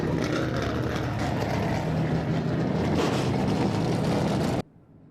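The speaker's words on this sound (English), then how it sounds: "I just wanted to savor that sound as Terry waves his hand vigorously to get those engines going" Trans Am race car engines starting up and idling loudly together on the grid at Laguna Seca raceway, a dense steady roar that cuts off abruptly near the end.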